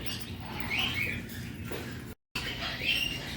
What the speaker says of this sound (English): That is one big bird.